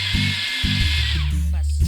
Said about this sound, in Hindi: गोश्त जो हमने बॉईल कर दिया था, जो गल गया था, अब इसको हम ग्राइंडर करेंगे,